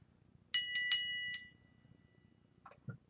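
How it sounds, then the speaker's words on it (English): A small bell on a witch's altar rings four times in quick succession, bright, clear and close, with the last strike ringing out before fading into quiet, followed by a couple of soft knocks. "for spirit, my bell."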